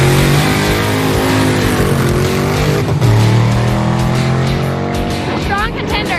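A Plymouth Formula S Barracuda drag car's engine roars and revs loudly nearby at a drag strip, the pitch rising and shifting, with voices commenting over it.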